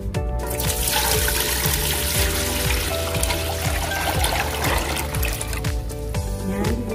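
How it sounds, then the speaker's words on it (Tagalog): Water poured from a tap into a saucepan while making cookies and cream ice candy, a steady splashing trickle heard close up, continuous for several seconds. "maglalagay na ako ng tubig sa kasirola"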